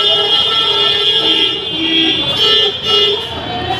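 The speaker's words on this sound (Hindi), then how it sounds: "तो गाड़ी आते जाती रहती है।" Vehicles passing on a busy village market road, a loud, continuous traffic drone with sustained horn-like tones swelling and fading, voices faintly mixed in.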